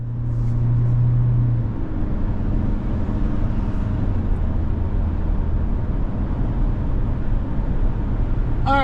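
2025 Toyota Corolla Cross Nightshade Hybrid driving, a steady low road and engine rumble heard from inside the cabin, continuous and moderately loud.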